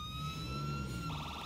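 An ambulance siren in the video game State of Decay 2 wails in a steady tone that shifts to a rapid yelp pattern near the end, loud and close, with an engine rumble underneath.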